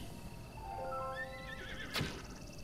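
A wild horse in The Legend of Zelda: Breath of the Wild lets out a high, wavering whinny that rises and falls, followed by a sharp snort, over a faint ambient background.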